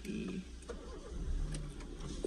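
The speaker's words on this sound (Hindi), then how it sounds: "मेरी गाड़ी क्यों नहीं स्टार्ट हो रही" A car engine cranks over and over without catching, a low rough churning with a few short clicks, close by and fairly quiet, with no one talking.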